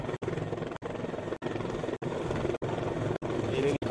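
A rescue helicopter hovers close overhead in a water rescue dog exercise in Lecco, its rotor chopping in a loud, even pulsing rhythm with regular short dropouts, and someone speaks over it.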